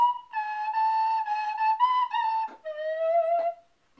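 A man plays a nose flute, giving a pure, breathy whistling tone in a series of held and stepped notes with brief breaks, clear and close with no voices over it.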